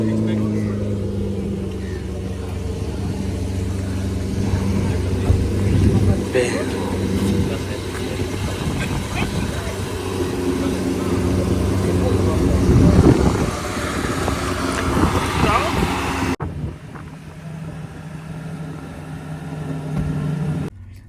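A Lamborghini sports car engine rumbles steadily up close for around sixteen seconds, with people talking over it, before the sound drops away abruptly.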